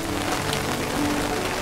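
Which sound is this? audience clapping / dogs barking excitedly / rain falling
rain falling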